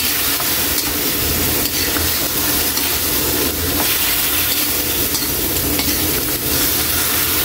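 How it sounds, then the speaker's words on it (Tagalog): A soup simmers and sizzles in a cooking pot as it is stirred, a steady close hiss and bubbling that runs without pause and has no talk over it. "Likot lang natin."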